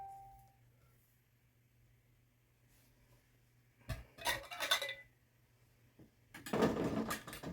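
Spoon stirring a sugary pot mixture on the stove, quiet at first, then two bursts of clinking and scraping against the pot, close up.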